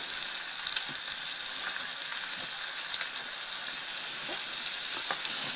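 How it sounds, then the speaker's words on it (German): Bacon sizzles and spits in a pan over a campsite fire at dawn, a steady dense crackle with scattered sharper pops and faint clinks, close and continuous with no talking. "es brutzelt der Bacon"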